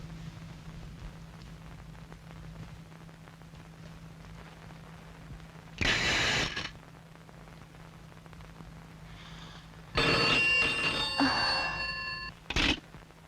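A telephone rings in bursts, a short ring near the middle and a longer electronic ring later followed by a brief final chirp, over a steady low hum with no talking.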